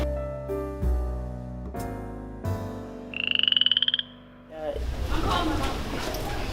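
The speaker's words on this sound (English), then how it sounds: "it's a frog in there now" Frogs croak in a school pond, repeated deep bellowing calls and one rapid pulsing trill, loud and close, followed by rustling outdoor noise.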